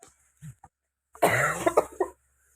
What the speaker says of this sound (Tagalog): May ubo pa tayo ngayon.